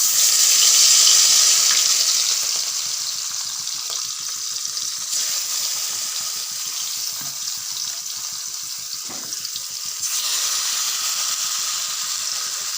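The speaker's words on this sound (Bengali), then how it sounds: "তেল গরম হয়ে গেছে, এবারে মাছটা দিয়ে দিব" Fish, rohu, dropped into hot oil in a pan, a loud continuous close sizzle with bubbling hiss that swells at first then holds steady throughout, no voices.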